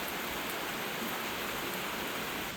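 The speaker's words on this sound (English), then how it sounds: "It is absolutely pouring rain" Heavy rain pours down steadily in a dense, unbroken hiss, loud and close, with no voices over it.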